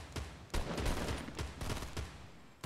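Gunfire in the video game Fortnite, a rapid rattling stream of close shots with uneven spacing, loud and continuous for a couple of seconds with brief gaps, no talk over it.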